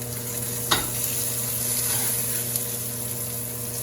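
Food searing in a cast iron pan: a loud, even sizzle with one sharp clink or scrape early on and a steady hiss under a low hum, with no voices.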